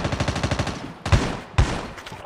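Rapid bursts of automatic gunfire from a Call of Duty Mobile battle royale match, a fast rhythmic volley followed by two louder, heavier single blasts like shotgun shots, close and with no talk over them.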